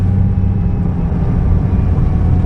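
A Nissan GT-R engine drones steadily on a gymkhana course at Mortefontaine, a loud, constant low rumble with no clear gear changes, heard without talk.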